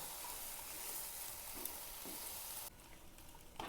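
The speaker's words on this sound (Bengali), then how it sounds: "পরিমাণ মতন হলুদ দিয়ে দেবো এবার আমি ভালো করে ভেজে নেব" Yardlong beans with turmeric and salt frying in a pan, a dense continuous hiss of sizzling oil that drops abruptly quieter near the end before a brief stir.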